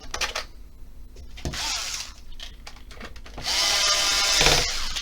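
A power drill drives a single large screw back into a PS5 console during reassembly, two loud whirring bursts separated by a short pause, close up with no talking.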